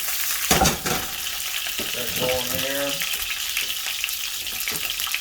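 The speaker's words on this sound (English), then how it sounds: "we got bell peppers and put them in there first. See that sizzle?" Bell peppers sizzle loudly and steadily in a hot pan, a bright continuous crackle, while someone speaks briefly over it and utensils clink.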